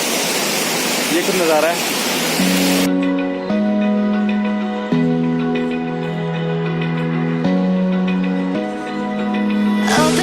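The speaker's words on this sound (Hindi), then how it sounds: "फाइनली हम पहुंच चुके हैं जोगनी वाटरफॉल" Jogini waterfall in Kullu-Manali sends up a loud, close, broad roar of falling water for about three seconds while someone speaks over it. The roar then cuts off abruptly and music takes over.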